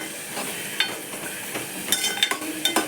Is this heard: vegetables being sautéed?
yes